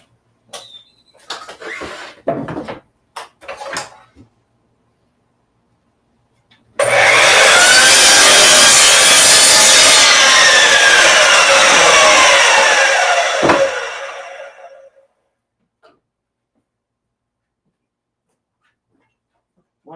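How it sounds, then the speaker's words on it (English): A miter saw cuts through wood in a workshop, spinning up into one loud, sustained rasping cut of roughly eight seconds before winding down, preceded by a few scattered knocks and handling clatter. "I'm going to run the miter saw"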